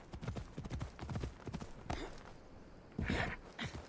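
A horse's hooves clip-clop in Assassin's Creed Odyssey, played on PC, as the rider sets off: a quick, uneven run of hoof strikes at moderate volume, with a louder burst of movement near the end.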